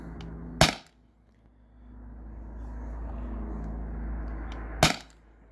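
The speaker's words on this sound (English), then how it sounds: "I think that was 8 shots" A Beeman CO2 air pistol fires rubber steel balls, two sharp, loud cracks about four seconds apart, close by, with a low vehicle hum rising between them.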